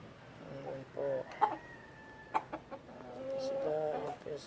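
Red bourbon turkeys and brahma chickens cluck and call softly on a farm, scattered short calls and gobbling notes over a quiet background, with a voice briefly heard.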